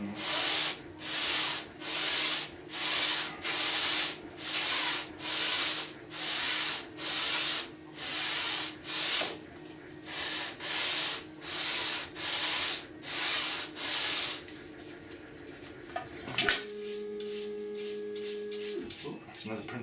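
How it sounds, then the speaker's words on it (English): Sandpaper on a sanding block rubs a 3D-printed ABS part in steady rhythmic strokes, about fifteen close, loud scrapes, then stopping as quieter handling noises and a brief tone follow. "When I'm sanding on the block, we're still catching the high points."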